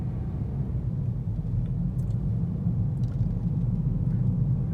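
A Toyota Corolla Hatchback XSE on the move, heard from inside as a steady, even low rumble of engine and road noise with no talking.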